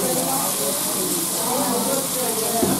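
Cod mixed with caramelized onions sizzling in a pan during a cooking class in Evora, Portugal: a steady, close hiss of frying with watery crackle that runs unbroken throughout, with no clear speech over it.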